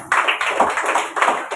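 A congregation claps in praise of God during a church sermon, a few quick bursts of hand claps in a loose rhythm, loud and close with no talking.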